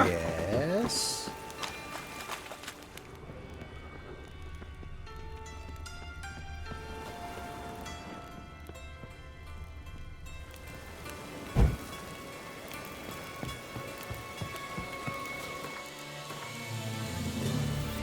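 Heavy rain falls in The Witcher 3 video game, a steady dense hiss throughout with music and game sounds layered over it and one sharp thump partway through.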